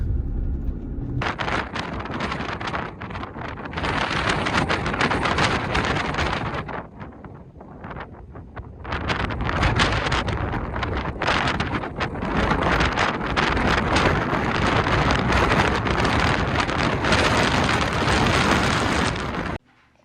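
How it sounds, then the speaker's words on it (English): Strong gusts buffet a parked truck and set overhead power lines swaying, a loud continuous roar of wind noise that drops briefly before surging back and holding steady until an abrupt cutoff. "Look at my power lines blowing in the wind. My truck's shaking."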